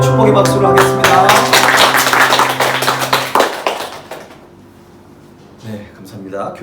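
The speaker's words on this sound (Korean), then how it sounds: "우리 축복의 박수를 하겠습니다." A church congregation at a Korean Sunday worship service claps together in blessing over sustained music. Crisp, rapid handclaps are heard throughout, then thin out into a few scattered claps as the music stops.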